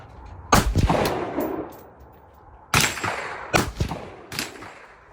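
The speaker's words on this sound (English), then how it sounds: "We will shoot the 55 first and then the 62." Rifle shots from a 7.5 inch barrel firing 55 and 62 grain rounds at a gelatin target, four sharp loud cracks outdoors with ringing decay, spaced irregularly over a few seconds.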